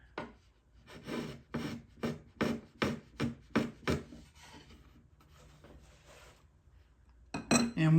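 Chisel shaving excess western red cedar off a guitar soundboard, a run of about a dozen rhythmic rasping strokes at close range, followed by a quieter scraping pass and then a brief louder cut at the end.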